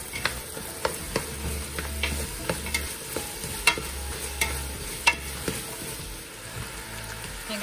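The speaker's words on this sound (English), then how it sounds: "So I added a 1/3 cup of olive oil into the pan. I heated it up. I have some zucchini in there." Zucchini fries in olive oil in a pan, a continuous close sizzle broken by repeated sharp clicks and scrapes as it is stirred, with no one talking.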